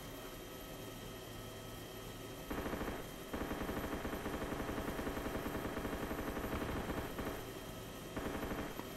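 Rapid automatic gunfire from a bandit camp firefight in DayZ: Origins comes in dense bursts over a steady mechanical drone, with brief pauses between volleys and no talking.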